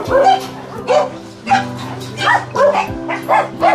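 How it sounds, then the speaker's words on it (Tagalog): A large dog barks repeatedly in close, loud bursts, yipping and whimpering between barks. "Ang lalaki ng aso doon."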